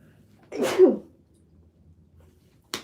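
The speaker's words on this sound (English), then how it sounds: "I have to sneeze." A single sharp sneeze bursts out close by, followed by quiet and a brief faint noise at the end.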